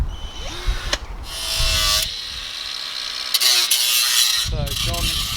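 Power tool cutting into a BMW E36 body tub in a workshop, with a loud, steady whining grind and shifting pitch across the clip, broken by brief pauses and clanks, close by.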